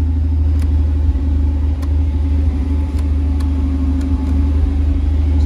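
Chevrolet Omega six-cylinder car engine idling steadily after starting, a loud continuous low rumble with faint periodic clicks, no talk over it.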